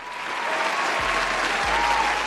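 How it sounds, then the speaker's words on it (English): Dense, sustained applause from an audience fills the whole stretch, a steady wash of many hands clapping at even loudness, with a faint tone and a couple of low thumps underneath. "Give him a round of applause"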